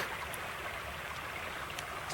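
Water in a creek flows in a steady, close rushing babble, with a couple of faint, brief clicks over the constant stream and no speech.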